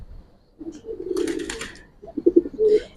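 Bagha and silver-necked Giribaz pigeons give low, throaty coos close by, with a soft rustle between calls and several quick pulsing coos at the end.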